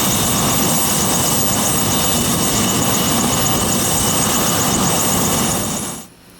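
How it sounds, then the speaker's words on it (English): A helicopter flies near the Oregon coast, a steady, loud broadband rotor and engine roar holding for about six seconds before dropping away abruptly at the end. "chances are he's got a chopper kicking around someplace"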